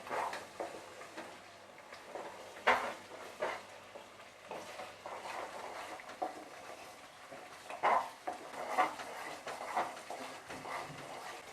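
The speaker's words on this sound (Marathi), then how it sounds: "चला आता मिक्स करून घेऊया" Homemade red masala, turmeric and tamarind pulp being stirred together in a pot, soft scraping and clinking of a spoon against the vessel in irregular strokes, fairly quiet, with no talk.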